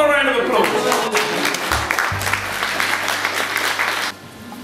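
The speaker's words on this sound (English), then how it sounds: "Give him a round of applause." Applause at a business networking event, a dense burst of clapping from the audience that carries on for about four seconds and then drops away.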